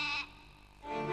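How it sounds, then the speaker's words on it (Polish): Sheep bleating in a short two-part call, a bright harmonic bleat at the start and a second rising bleat at the end with a quieter gap between, close and clear with no talking. "Owca."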